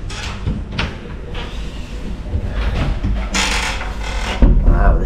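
A big double wardrobe door in a guest house room in Sanur, Bali, is opened up close. It gives a series of knocks, rattles and a sliding rumble, ending in a louder thump.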